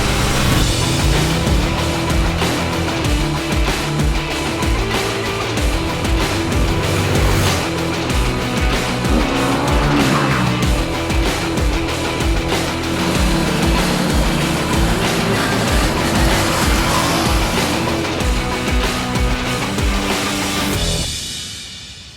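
Indian FTR 1200 motorcycle engine at full throttle while riding, a loud continuous roar with rising and falling revs and gear changes under heavy wind rush, cutting off abruptly at the end.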